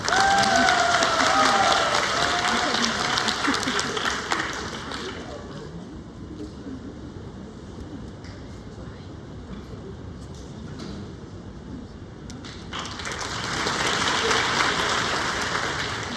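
An audience at a student world economics symposium applauds a keynote pair: a loud burst of crowd clapping at the start fades to a quieter murmur, then swells again near the end.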